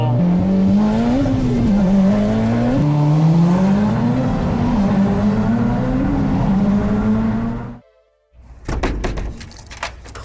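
A 600-plus horsepower Mitsubishi Evo X accelerates hard up an on-ramp at night, heard from inside as a loud, continuous engine howl rising through the gears with brief dips at shifts, then cutting off abruptly before a few thumps.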